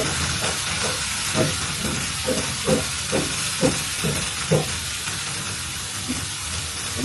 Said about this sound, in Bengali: আমি অল্প কিছুক্ষণ সময় তেলের মধ্যে সব কিছু ভেজে নিব